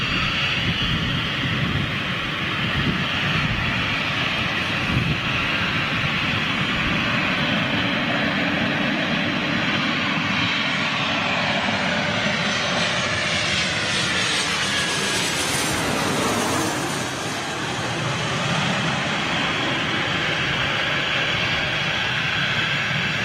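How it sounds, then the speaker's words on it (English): An Embraer jet comes in to land at London City Airport, its engine roar loud and sustained throughout, with a clear Doppler-like shift in pitch as the aircraft passes close by. "Next one in, and another Embraer."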